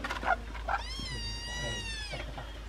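A cat gives a single drawn-out meow, close and clear, after a couple of brief softer chirps, set in a rural village home of the Bana people.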